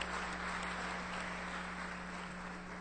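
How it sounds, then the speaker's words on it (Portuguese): A church congregation applauds in praise, a dense, steady wash of clapping that fills the room throughout, with a low electrical hum beneath it. "Uma salva de palmas ao Senhor."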